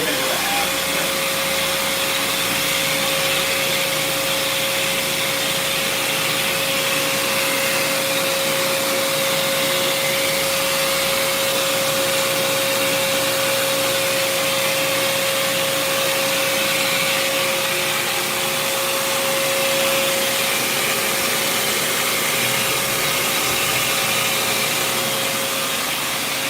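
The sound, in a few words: CNC machine spindle drilling with a bit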